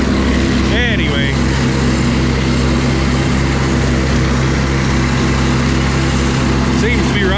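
Engine of a 300 Utility tractor running steadily and loudly, a constant droning hum with no change in pace throughout, with someone talking over it briefly.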